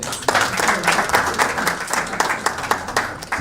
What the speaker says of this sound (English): Let us give a warmer round of applause